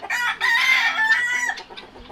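Roosters crowing and clucking inside a farm pen, one loud, close, drawn-out crow running into clucks and fading, with no voices present.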